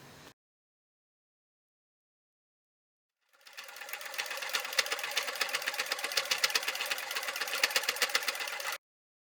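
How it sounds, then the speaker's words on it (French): Sewing machine stitching a fabric storage pouch with compartments, one steady continuous run of about five seconds that starts after a few seconds of silence. "on va commencer par coudre ce côté-là. Et ensuite, on coud ici."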